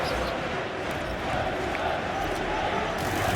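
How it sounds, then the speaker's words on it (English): Football crowd inside White Hart Lane stadium, a steady, dense roar of many voices murmuring and calling out, broad and continuous throughout with no single standout shout. "we're hearing the crowd inside White Hart Lane"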